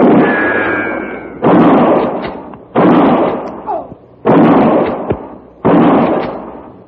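Rifle and pistol gunshots from a TV western: four loud, close blasts spaced about a second and a half apart, each with a long booming tail that fades before the next.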